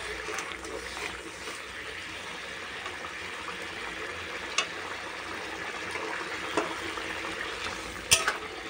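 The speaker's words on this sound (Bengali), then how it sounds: "দেখো ফুটে যাচ্ছে।" Potatoes simmer and bubble in a pan, giving a continuous close sizzling, bubbling hiss with a few faint clinks scattered through it.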